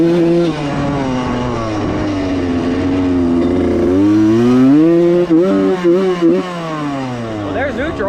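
A 1995 Suzuki RM125 two-stroke motorcycle engine drones loudly while being ridden, its pitch sagging and climbing through gear changes and throttle shifts, close and continuous for the whole stretch.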